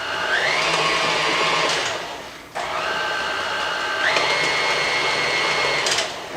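An electric hand mixer whirs steadily through lemon bundt cake batter, its motor pitch rising and holding in two long passes with a short pause between, loud and close with no talk.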